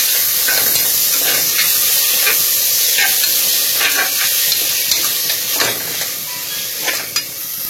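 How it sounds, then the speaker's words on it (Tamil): Chopped tomatoes sauté with softened onions in a hot pan for radish sambar, giving a loud, continuous close sizzle and hiss, broken by occasional stirring scrapes and taps of a spatula against the pan. "தக்காளியும் வதக்கலாம்"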